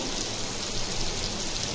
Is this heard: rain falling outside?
yes